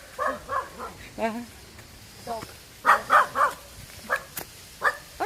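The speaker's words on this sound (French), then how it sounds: "Des petits chiens qui sont pas contents." Small dogs bark in short sharp bursts, a few yaps at the start and a louder cluster of barks midway, fairly close, at a cave site in Bali, with a brief exclamation from a person.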